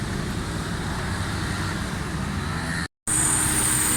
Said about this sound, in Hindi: ज़बरदस्त साउंड है गाड़ी का